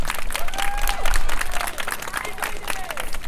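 An audience at a livestream claps in a steady patter of applause that swells and fades, with voices talking and reacting over it.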